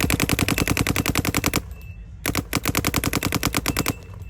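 MacDev GTX paintball marker firing rapid strings of sharp, loud pops in a fast even rhythm, a brief pause in the middle, then another long burst; no voices.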